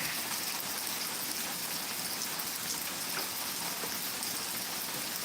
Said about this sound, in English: It's starting to rain a little better here, Miss Needle.